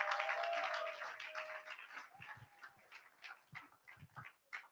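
An audience claps to welcome a speaker at a digital skills event, a fairly faint burst of applause that thins out into a few scattered claps and soft thumps.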